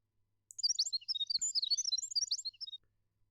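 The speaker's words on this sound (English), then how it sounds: "The birds are chirping merrily again today." Bright, twittering birdsong fills the hanging perimeter gardens of Olympus in the Fate/Grand Order video game, a rapid run of close chirps lasting about two seconds before falling silent, with no voices.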